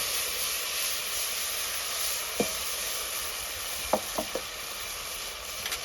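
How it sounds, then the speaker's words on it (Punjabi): Tomatoes, ginger and garlic sizzle steadily in hot oil with cumin, a broad hissing fry running the whole time, with a few light clinks of stirring near the end and no talk. "ਇਹਨੂੰ ਆਪਾਂ ਚੰਗੀ ਤਰ੍ਹਾਂ ਭੁੰਨ ਲੈਣੇ"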